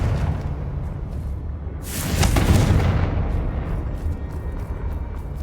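Confringo fire curse in Hogwarts Legacy bursts into a loud, booming explosion with a whooshing rush that swells and then slowly dies away over a rumbling background.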